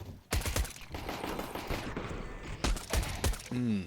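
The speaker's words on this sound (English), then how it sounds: "Nice shots out of ZywOo as well. Always crispy with a USP." Crisp USP pistol shots from Counter-Strike on the Inferno map during a pro match, a quick pair of sharp cracks near the start and another burst of shots toward the end, over busy game noise.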